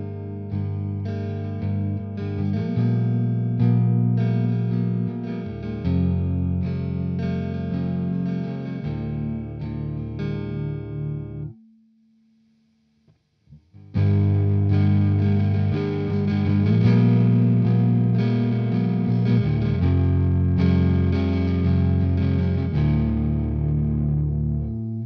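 An electric guitar through a DD-21 distortion effect app plays heavily distorted chords and riffs, loud and close, with a short silent pause midway before the playing resumes.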